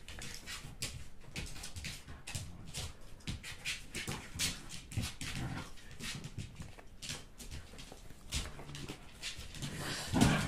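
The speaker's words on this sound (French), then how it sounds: "j'espère que vous n'entendez pas trop les chiens qui sont en train de chahuter" Several dogs play-fighting indoors, with scuffling, panting, whimpers and brief yelps that come and go for about ten seconds in the background, quite close, and a single sharper bark near the end.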